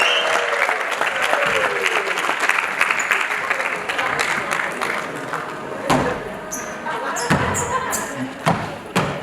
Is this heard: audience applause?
yes